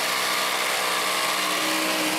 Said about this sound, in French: on arrive aux coupures à scie sauteuse